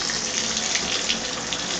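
Water runs steadily from a bathtub shower faucet with a Delta diverter that does not pop out fully, a continuous broadband rush with no pauses.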